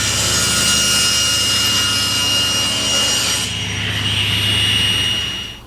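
A saw cutting knots out of a pressure-treated construction-grade 2x4 gives a steady, continuous rasp with a low hum beneath it, loud and close, easing slightly partway through and tapering off at the end.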